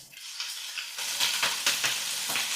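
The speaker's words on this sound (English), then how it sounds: "let's saute until the carrot is tender but still firm" Bell pepper, carrot and cabbage sauté in a pot for a Japanese one-pot meal, giving a close, bright sizzle that swells after a quiet start, with a few rhythmic stirring pulses.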